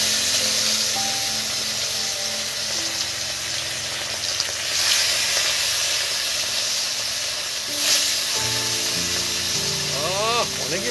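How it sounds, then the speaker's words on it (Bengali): Katla fish pieces frying in smoking-hot oil in a wok, a loud continuous hiss and sizzle close up, with some faint tonal background sounds near the end. "এবার মাছগুলো আমি এই তেলের মধ্যে দেবো"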